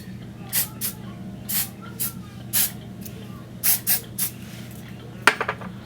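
A spray bottle of wig spray gives a run of short, sharp hissing spritzes, about ten bursts in irregular quick succession, close and fairly loud over a low background hum.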